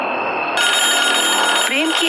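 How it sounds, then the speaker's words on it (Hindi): A telephone bell rings at midnight in a cartoon, a steady, bright electronic trill that holds for about two seconds and changes pitch partway through, with a brief voice-like sound near the end. "उसके टेलीफोन पर फिर से घंटी बजती है"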